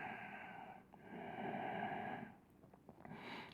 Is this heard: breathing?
yes